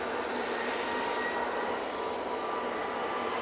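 British Airways jet airliner's engines spooling up for takeoff at Manchester Airport on a shuttle flight to Heathrow, a loud, steady broadband roar that holds evenly throughout without any voices.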